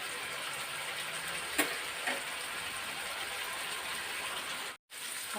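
Fish fries in a pan with a steady, even sizzle and a couple of soft clicks, like a spatula tapping, before a brief gap of silence near the end; no one talks.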